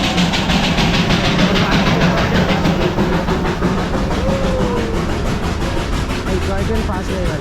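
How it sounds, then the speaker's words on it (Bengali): The Darjeeling toy train passes close by at Batasia Loop, giving a loud continuous rumble with rapid regular wheel clatter throughout, accompanied by a high whine. "এই টয় ট্রেন পাস হয়ে যাচ্ছে।"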